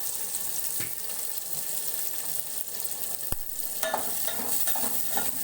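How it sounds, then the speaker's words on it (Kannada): Mustard seeds, cumin, green chili, onion and curry leaves fry in hot oil for upma in a North Karnataka chow chow bath, giving a steady crackling sizzle with occasional clinks of stirring, no talking. "ಸ್ವಲ್ಪ ಸಾಸಿವೆ ಜೀರಿಗೆ ಹಾಕ್ಕೊಂಡೆ ಆಮೇಲೆ ಹಸಿಮೆಣಸಿನ್ಕಾಯಿ ಈರುಳ್ಳಿ ಕರಿಬೇವು ಎಲ್ಲ ಒಟ್ಟಿಗೆ ಹಾಕ್ತಾ ಇದ್ದೀನಿ"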